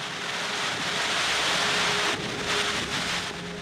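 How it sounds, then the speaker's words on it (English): Heavy rain with gusting wind during a storm at a camp for displaced people, a dense steady roar that swells and dips slightly, loud and close with no voices. "the rain is just really, really strong"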